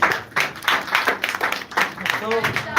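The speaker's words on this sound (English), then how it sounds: "Clap for him." An audience at a parliamentary-style debate claps for a speaker being called up, a dense patter of applause filling the short moment at close range.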